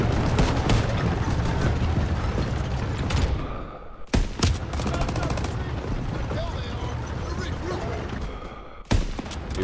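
Close machine-gun and rifle fire in the Call of Duty WWII video game, mostly long rattling bursts with brief gaps and a few sharp isolated shots, and some voices mixed in.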